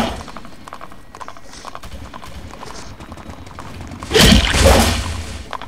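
Horse hooves clip-clopping at a gallop in a Roblox flintlock battle game, a rapid rhythmic clatter throughout that swells into a loud burst of pounding and swooshing near the end.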